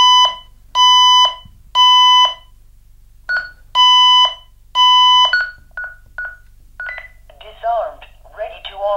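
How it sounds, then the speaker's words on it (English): A Honeywell 5809 sensor under test on an L5200 panel sounds its fire alarm tone: loud, steady beeps in groups of three with pauses between, followed by shorter, softer beeps and a voice speaking near the end. "We get the fire alarm tone."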